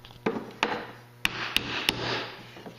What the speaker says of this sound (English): I might just bang that in with a hammer.